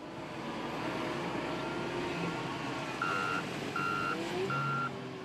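A custom-built service truck that empties grocery-store waste receptacles sounds steady, evenly spaced reversing beeps over its loud, continuous engine rumble.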